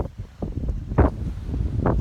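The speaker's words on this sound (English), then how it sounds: "Starting to blow in these strong winds, wind gusts up to 75 miles per hour." Hurricane Florence winds gusting outdoors, buffeting the microphone with low rumbling wind noise and two sharper gust bursts over a couple of seconds.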